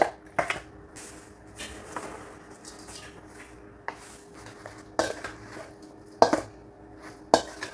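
Stirring food in a pan in a home kitchen, with a spoon scraping and clinking against the metal at irregular moments, several sharper knocks standing out over a low, steady cooking background.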